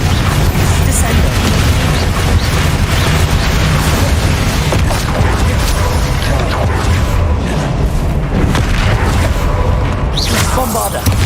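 Loud overlapping blasts and rumbling booms from explosive spells cast in the video game Hogwarts Legacy, dense and continuous with crackling bursts throughout.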